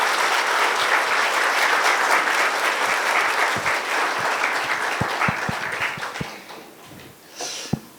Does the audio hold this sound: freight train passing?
no